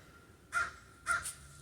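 Two loud, harsh caws from a crow on the ground just outside a pavilion, about half a second apart, standing out sharply against quiet surroundings.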